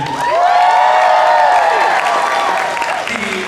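Crowd noise with shouts and cheers rising over a dense wash of voices, loud and close, an audience cheering and clapping at the opening ceremonies of an anime convention.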